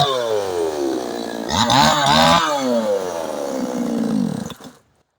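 A RIBIR GCS-8000 petrol chainsaw runs alone and loud, its engine rising into a higher-pitched rev in the middle before settling back and then cutting off near the end.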